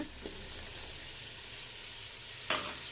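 Three tomatoes are sautéed in oil in a pan for seeraga samba mutton biryani, giving a faint, steady sizzle with a couple of brief scrapes.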